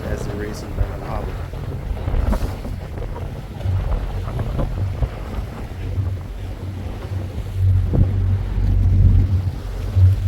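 Anguilla Class B racing sailboats move over the sea amid heavy wind buffeting and water wash, with low rumbling gusts building toward the end and voices talking faintly underneath.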